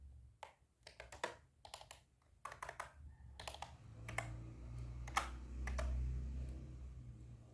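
Bursts of typing on a computer keyboard, quick clusters of close clicking keystrokes separated by short pauses, quiet, with a low hum rising in the background toward the end.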